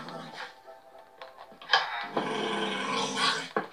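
Dog growling in a Minecraft game, low rumbling growls and pants coming in bursts, loud and close, with someone talking over parts of it.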